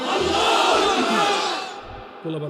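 A large crowd at a religious gathering shouting a takbir response in unison, a loud sustained roar of many voices that fades toward the end before a single voice resumes.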